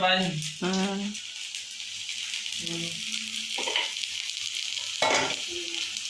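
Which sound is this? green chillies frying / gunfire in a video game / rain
green chillies frying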